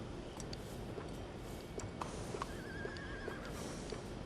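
In Red Dead Redemption 2, a horse whinnies and its hooves clip-clop in a steady rhythm, with faint clicks, moderately quiet and without talk.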